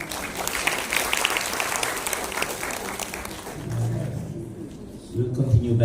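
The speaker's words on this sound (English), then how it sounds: "I think the floor would like to give Progeny a round of applause." Applause from the floor at a medical talk on pelvic inflammatory disease, a dense spread of clapping that fades toward the end as a voice starts speaking over it.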